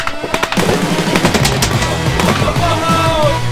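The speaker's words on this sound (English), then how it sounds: "Oh yeah, that's a high-powered SMG." Toy high-powered SMG blaster firing: loud rapid bursts of sharp mechanical clatter and rattling shots up close, followed by a whirring, repetitive motor-driven feed, with no talk.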